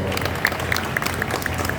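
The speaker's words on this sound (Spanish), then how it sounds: "Un aplauso primero para Josep, por favor." Audience at a talk in conversation with Joseph Zárate and Jaime Vásquez claps for the speaker, a brief steady patter of applause from a room full of people.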